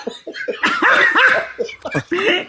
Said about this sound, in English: Now my dog's checking that out.